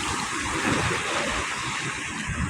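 Waves crash and wash along a shoreline beside a highway under construction near the Bulacan airport, a steady broadband roar with rolling surges and some wind buffeting the microphone, no voices.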